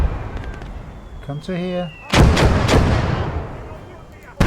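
Mortar explosions in the World War II video game Blood Red Snow land as heavy booming blasts around a battle, followed by a rumbling tail and another sharp impact at the very end, with a brief spoken line and a tonal game effect beforehand.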